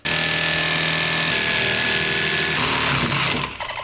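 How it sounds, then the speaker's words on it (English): A power drill whines loudly and steadily while being moved up and down and walked sideways to join drilled holes for a jigsaw blade, its pitch shifting before it winds down at the end. "by moving the drill up and down and walking it sideways"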